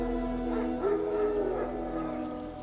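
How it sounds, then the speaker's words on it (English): Wild dogs in The Witcher 3: Wild Hunt bark and yip faintly at a distance, a few scattered calls under a steady ambient hum. "Wolves? No, wild dogs."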